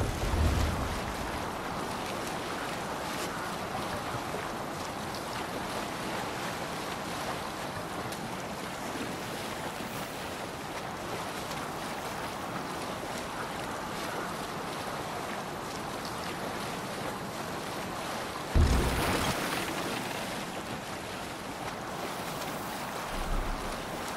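A sailing ship in Assassin's Creed Valhalla moves over open sea, with a steady wash of waves and wind rushing past at an even level and a brief louder swell near the end.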